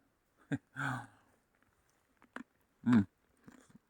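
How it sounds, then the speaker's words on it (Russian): Close-up crunching bites and chewing of crisp, unfrozen food outdoors in the taiga, a few sharp crackly bursts separated by quiet pauses. "Смотрите, как классно хрустит, не мерзлый."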